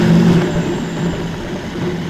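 A 2020 Indian Roadmaster motorcycle's big engine pulls hard as the throttle opens, a loud, close, rising rumble with a brief louder burst at the start, then a sustained throaty drone.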